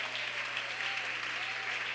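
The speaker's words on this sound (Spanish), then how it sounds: "Un aplauso para Cristo esta mañana." Congregation applauding during a Spanish-language church service, a steady, fairly quiet wash of clapping heard throughout.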